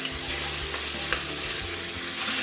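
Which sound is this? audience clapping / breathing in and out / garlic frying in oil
garlic frying in oil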